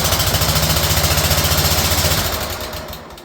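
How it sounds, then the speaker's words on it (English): A car engine idling rough with one spark plug boot pulled off, a loud close, uneven pulsing chug with a rhythmic misfire beat that fades slightly toward the end. "It's running the same when we've got this spark plug boot removed from this side"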